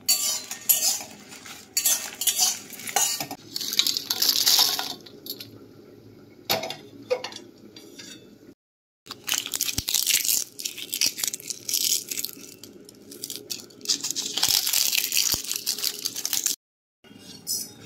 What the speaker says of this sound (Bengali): তো শুকনো খোলায় প্রথমে আমি সমস্ত মশলা এক এক করে ভেজে নেব।